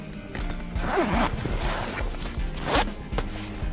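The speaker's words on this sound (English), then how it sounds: "That'll make it nice and easy to pull the zip over." A zipper on a camper trailer tent is drawn along its track in several long, raspy pulls, close and fairly loud, with faint shuffling between strokes and no talking.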